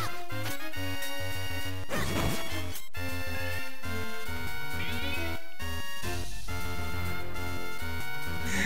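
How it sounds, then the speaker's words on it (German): A cat's meow from The Legend of Zelda: The Minish Cap sits inside dense, continuous game music and effects, a few short cries amid loud melodic tones. "Meine Katze kommt."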